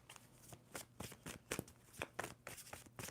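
Quick bursts of tarot cards being shuffled, a rapid riffling flutter repeated several times in close succession, with no talking.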